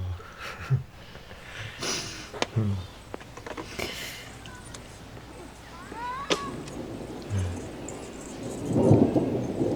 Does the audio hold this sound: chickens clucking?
no